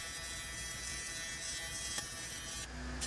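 TIG welding on an aluminum truck bed ramp gives a steady, close electric buzz and hiss that continues without a break, with a brief crackle near the end before the tone shifts and the arc cuts off.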